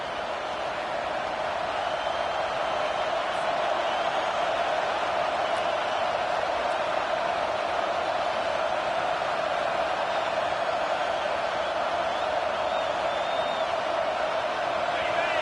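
Steady roar of a packed stadium crowd at a college football game between Georgia and Ole Miss, a continuous broad wash of noise with faint whistles, heard under a game announcer's play-by-play commentary.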